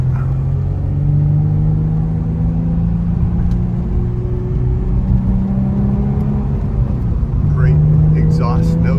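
A 2008 Nissan 350Z Touring Coupe with a Nismo exhaust runs steadily with a deep, continuous engine drone, heard from inside the car, with a brief voice near the end.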